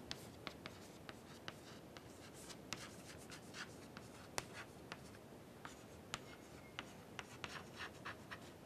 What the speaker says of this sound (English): So, I just write down again this equation for heterogeneous system.